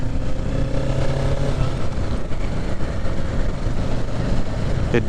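A 2023 Kawasaki Ninja 650 motorcycle engine drones steadily during a test ride, a continuous loud rumble with wind buffeting and no clear rev changes.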